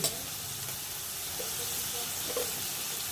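Lobia frying in a pan, a steady, fairly loud sizzle running throughout with a few faint clinks and stirring sounds, no voices.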